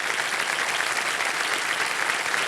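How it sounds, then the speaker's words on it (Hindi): Dense, sustained studio audience applause on a television quiz show set, loud and steady throughout with no break or talk over it. "एक बार जोरदार तालियां बज जाए इनके लिए"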